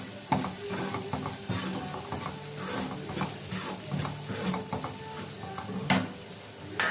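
A spoon stirs a spiced potato stuffing with salt and turmeric in a pan, giving close, steady scraping and clinking with a soft sizzle underneath.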